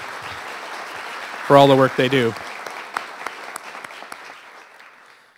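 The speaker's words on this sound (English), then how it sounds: "So let's give them a round of applause" Audience applause for event staff at a city council Nowruz celebration, a brief burst of clapping breaking in after a spoken line and fading out under a voice and scattered claps.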